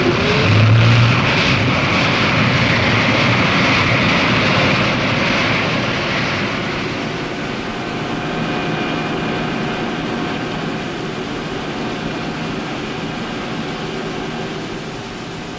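Marinized gas turbines power a foil-borne hydrofoil ship, giving a loud, steady roar laced with high whining tones that eases slightly and holds.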